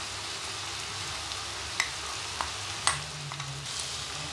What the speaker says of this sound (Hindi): वेजिटेबल को अच्छे से मिक्स करेंगे